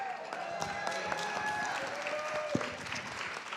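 Audience applause at a children's charity fall gala, a soft, continuous patter of many hands heard from a distance, with musical tones and chatter mixed in.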